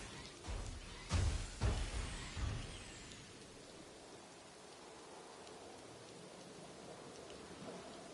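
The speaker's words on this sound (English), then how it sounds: "The rain has stopped." Video game rainfall on a PS5 title: a few heavy thumps or distant thunder-like rumbles early, then a steady hiss of rain fading to a quieter wash.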